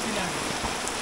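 Rain falls at a village market, a brief burst of steady patter on surfaces, close and even, with no clear voices over it.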